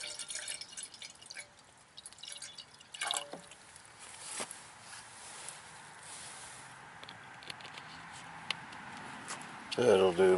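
Rainwater drips land in scattered, irregular plops against a quiet background at a camp in bad weather, with a few sharper taps and a clatter near the end.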